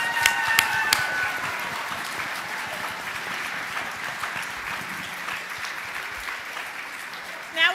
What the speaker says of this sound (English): let's give them one more round of applause at Family Cafe.